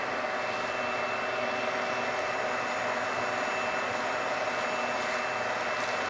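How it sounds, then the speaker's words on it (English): A vacuum cleaner runs steadily throughout while sucking up bonsai soil from a juniper slab planting, a loud, constant whooshing drone with no pauses. "I'm going to use a vacuum cleaner to get some of this out of here"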